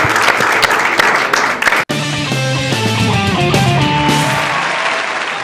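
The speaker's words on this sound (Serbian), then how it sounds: "molim vas još jedan veliki aplauz" Studio audience on a TV singing contest applauding, a dense, loud burst of clapping for about two seconds that cuts sharply into music.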